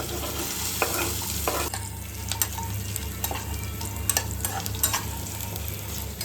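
Peanuts, green chillies, garlic and curry leaves fry in a hot pan for puliogare, giving a steady close sizzle with a few stirring clinks and scrapes and no voices.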